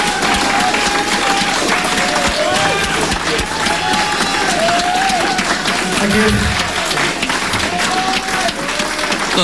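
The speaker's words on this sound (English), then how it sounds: "Thunderous applause now" Loud, continuous applause from a crowd, with cheering and voices mixed in, runs at a steady level from start to finish.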